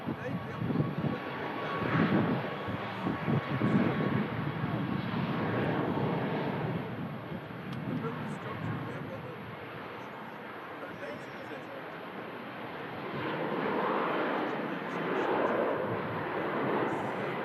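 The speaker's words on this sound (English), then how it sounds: "Ryanair Max just starts rolling on the South Runway" A Ryanair Boeing 737 Max jet starts its takeoff roll on the south runway at Manchester Airport, a broad, steady engine roar that holds throughout and swells again toward the end, heard from a distance.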